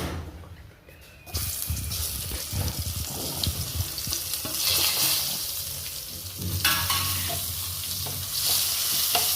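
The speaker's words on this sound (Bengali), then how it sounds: "তেলের মধ্যে এবার কাঁচা পেঁয়াজগুলো দিয়ে দিলাম।" Raw onions hit hot oil and settle into a steady, close sizzle, with stirring and scraping throughout and a louder burst of frying partway through.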